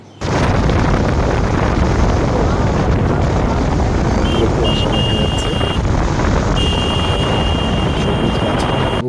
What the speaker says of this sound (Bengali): আমাদের বাইক চলেছে